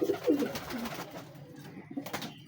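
A large breeder pigeon coos in short, soft low-pitched bursts close by, with a quieter coo near the end.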